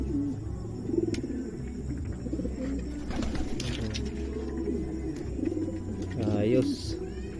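Pigeons coo in low, throaty, repeated calls from a loft, moderately near, with rustling and other bird noises around them.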